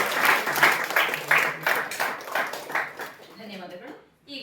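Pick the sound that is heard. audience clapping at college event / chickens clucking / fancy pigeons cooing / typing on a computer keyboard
audience clapping at college event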